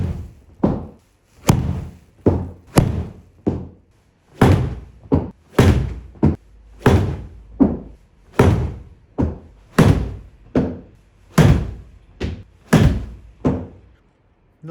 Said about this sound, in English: So we'll hit 10 wedges, see what it's like as well now.